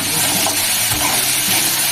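Pumpkin pieces fry with green chilli, salt and turmeric in a pan, giving a loud, steady sizzle with soft stirring scrapes throughout.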